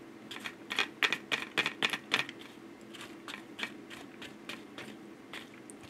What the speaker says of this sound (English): I'm eating natto, it's delicious.